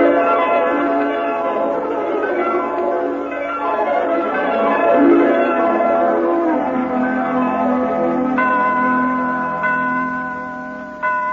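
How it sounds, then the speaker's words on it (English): Ringing bells in a 1953 Christmas radio comedy program, a steady bright jingling that sustains loudly for several seconds with no voices over it. "I thought I heard sleigh bells."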